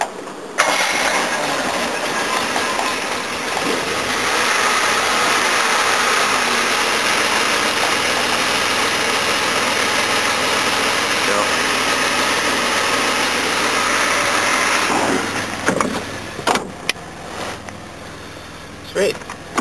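A Jaguar XJ6 fitted with a new engine cranks and fires up, then settles into a loud, steady idle close by for about fifteen seconds before dropping away, with a few clunks and brief talk near the end.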